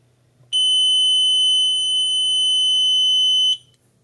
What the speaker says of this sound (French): quand je présente un mauvais badge, c'est la LED rouge qui s'allume et le buzzer qui s'active